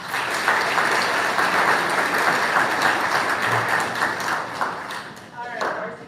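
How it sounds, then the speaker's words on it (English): At a high school event, the crowd applauds the JV volleyball team with sustained, dense clapping and a few cheers that taper slightly near the end. "let's give our JV a round of applause"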